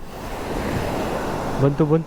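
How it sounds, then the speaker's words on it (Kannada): Sea waves break and wash up a beach in Pondicherry, a loud continuous roar of surf with wind, and a voice speaking briefly near the end. "ಬಂತು ಅಲೆ ಬಂತು."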